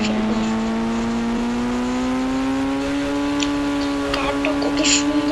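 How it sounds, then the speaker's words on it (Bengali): A car in a racing video game drives smoothly with a steady, slowly rising engine tone that holds throughout, with no talk over it. "কারটা কত সুন্দর ভাবে চলতেছে দেখছেন, স্মুথলি।"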